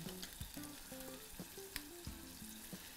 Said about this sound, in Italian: saliamo leggermente i nostri gamberi, in questa maniera, e andiamo a rosolarli